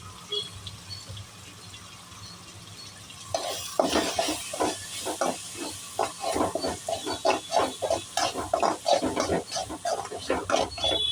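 Mutton sautéed in a pan with Kashmiri chilli, quiet at first, then close rhythmic scraping and stirring strokes over a soft sizzle.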